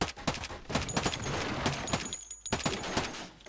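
Rapid bursts of gunfire from a video game set at Area 51 crack close and loud in dense clusters, with brief pauses between volleys.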